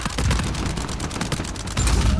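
Rapid, dense gunfire from a shooting video game, loud and close, with bursts of automatic fire and a heavier blast near the end.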